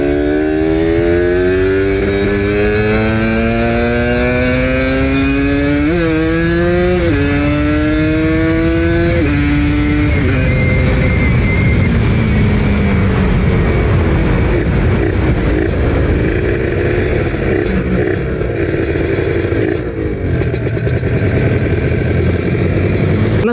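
A Kawasaki Ninja RR two-stroke motorcycle ridden on a narrow city road, its engine loudly revving up through several gear shifts in rising whines, then settling into a rough steady drone amid wind noise, with an engine fault suspected in ignition or carburetor settings.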